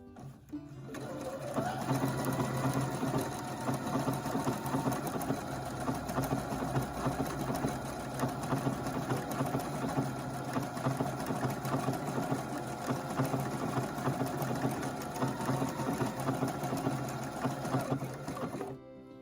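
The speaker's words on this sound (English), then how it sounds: "I think I'll back stitch here" Sewing machine running a steady, continuous stitching whir, finishing a seam with a back stitch; close and even throughout with no talking.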